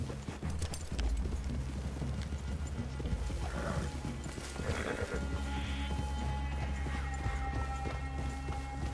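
Horses' hooves clip-clop in a steady trot in the video game Red Dead Redemption 2, beneath a continuous background drone, with a few brief higher sounds.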